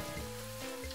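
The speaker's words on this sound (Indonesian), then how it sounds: "Jadi Mak Buta goreng sampai hatinya meloncat" Liver frying in a wok for sambal goreng hati gives a brief, faint crackling sizzle with no voices.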